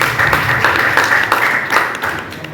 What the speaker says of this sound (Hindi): भाई इस बात पे ताली हो जाए।